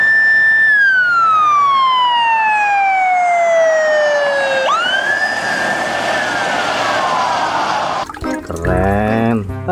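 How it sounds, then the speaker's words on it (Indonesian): A toy police car siren wails loudly and alone, a long falling tone that drops, jumps back up and sweeps again, ending with a brief burst of clattering noise. "Yang ini mobil polisi teman-teman."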